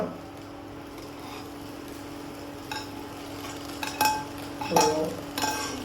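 Cooked rice tipped into a pan for egg fried rice and stirred with a spoon: a steady low hum at first, then clinks and scrapes of metal against the pan near the end.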